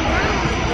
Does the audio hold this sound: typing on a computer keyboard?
no